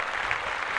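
A short applause sound effect, a brief burst of clapping lasting under a second at moderate volume.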